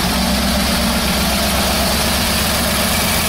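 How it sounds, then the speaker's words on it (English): A 1968 Chevrolet Camaro Z28 engine idles steadily at close range, a low continuous rumble with an even, smooth tone and no knocks or ticks. "Again, you can hear the engine."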